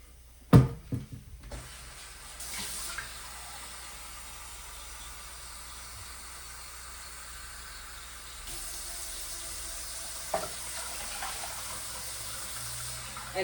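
A kitchen tap runs steadily as water fills a pot for boiling, a soft continuous hiss after a few sharp cupboard or handling knocks at the start, with a brief clatter partway through.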